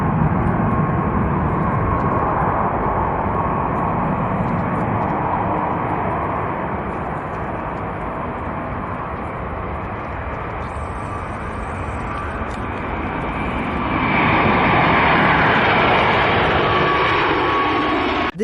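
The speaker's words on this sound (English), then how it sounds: "This Singapore Airlines Airbus A350 produces some mesmerizing wing condensation on takeoff." A Singapore Airlines Airbus A350 jet roars steadily through its takeoff run, a broad continuous engine rumble that swells louder near the end.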